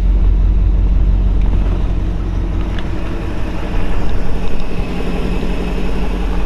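A 1968 Shelby GT500 convertible engine idles steadily with a deep, low rumble, running continuously at close range without anyone speaking.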